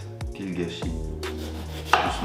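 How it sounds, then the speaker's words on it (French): A knife saws and chops through an aubergine on a cutting board, with a few sharp knocks of the blade striking the board. A person speaks briefly between the cuts. "En fait, tu scies l'aubergine."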